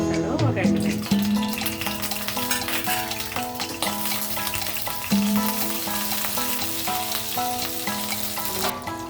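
Tempering spices fry in a pan of oil, with urad dal, mustard seeds, cumin, garlic and green chilies crackling and sizzling steadily up close, with clinks of a utensil against the pan and occasional talk over the top.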